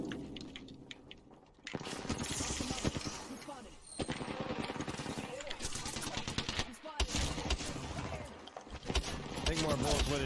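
Rapid automatic gunfire and weapon bursts from the Apex Legends video game crackle loud and dense almost throughout, with voices talking over the action.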